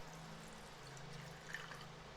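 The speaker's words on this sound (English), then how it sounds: "you want to get you some hot boiling water and pour this into this area" Hot boiling water poured into the cup of a steam seat, a quiet continuous trickle and splash with a low steady tone underneath and a faint drip near the end.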